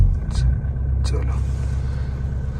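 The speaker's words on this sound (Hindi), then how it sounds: "गाड़ी स्टार्ट हो गई एट लास्ट।" A Mahindra Thar engine idles after a cold start during winter in Spiti, giving a steady low rumble throughout, with brief background voices near the start.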